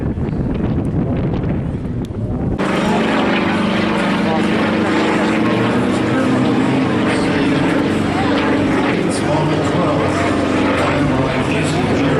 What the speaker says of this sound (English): it's fitted with either a 360 or a 400 horsepower Medeniev MP14 radial engine